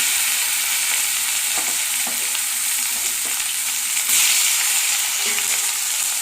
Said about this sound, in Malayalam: കടുക് ഒന്ന് പൊട്ടിക്കഴിയുമ്പോഴത്തേക്കും നമുക്ക് തേങ്ങാക്കൊത്തിനെ ഇട്ട് കൊടുക്കാം